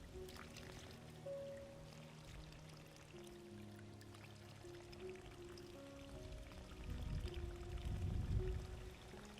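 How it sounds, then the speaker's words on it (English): Water from an automatic, sensor-controlled crop irrigation system pours and trickles softly, growing to a fuller splashing rush near the end over a low background hum. "until the sensor detects enough moisture to instruct the system to stop watering"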